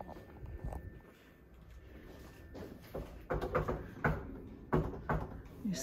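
Knocks on an entrance door at a health department office, a few sharp raps in separate bursts with some shuffling and handling noise around them, fairly close and without speech.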